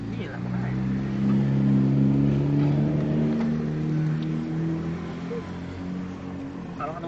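Cars move through dense Jakarta traffic with a steady engine drone and rumble, while people talk close by over the noise.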